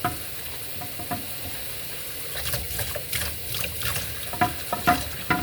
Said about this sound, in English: now the last thing we gotta scrub is the pan